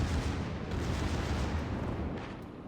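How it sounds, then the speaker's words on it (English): A warship's main guns firing a salvo in a naval game, a big cruiser-type ship: one sustained, loud, dense roar of blast and rumble that slowly fades, with no talk over it. "A nice 3K salvo coming out of those guns."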